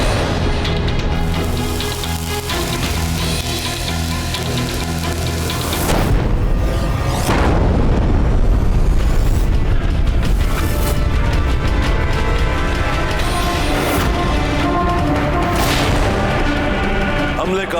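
Cannon fire and explosions ring out in a battle at Chittorgarh fort, heavy booms and blasts piling up over a dense, continuous roar of battle noise and music, loud and close throughout.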